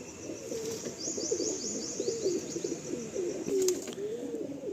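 A loft pigeon coos softly and repeatedly at close range, giving a run of low, rolling coos with a few faint higher chirps and no talking.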